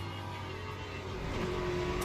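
A naturally aspirated Corvette GT3 race car engine in Le Mans Ultimate at Sebring gives a steady, mid-pitched drone that swells slightly as the revs climb toward the end.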